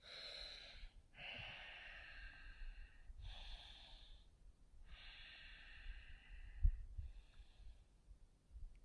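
Slow, deep yoga breaths during a standing pose flow in and out through the nose, about four long, airy inhales and exhales, close and soft with no talking.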